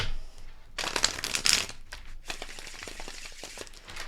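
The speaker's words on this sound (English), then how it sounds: "How many more shuffles? 2 more shuffles." A deck of cards is shuffled close by in a few quick riffle bursts, crisp fluttering rattles separated by short pauses, with no one talking over them.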